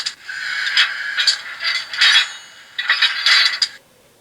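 A metallic, scraping clatter with rattling bursts and bright clinks of the coupler sound effect from an HO scale Bowser GMD SD40-2 model locomotive, heard alone and moderately loud.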